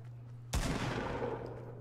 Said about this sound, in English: Who's shooting? Heard a shot.